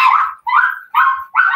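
Several dogs barking outdoors, four loud, drawn-out barks in quick succession with short gaps between them, close and clear, with no talking.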